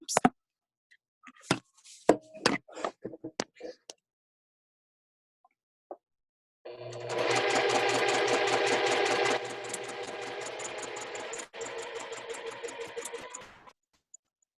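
Sewing machine stitching gentle curves on a quilt block, heard after a few sharp handling taps and clicks: a continuous close mechanical whir that runs several seconds, briefly slows, then continues before stopping.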